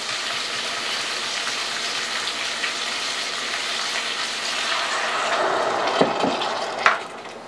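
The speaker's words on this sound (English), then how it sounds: "So we'll put in a cup of this vinegar." A cup of vinegar is poured into a pot for pickling jalapenos, giving a soft continuous liquid hiss that swells slightly before a couple of light clunks at the end; no voices.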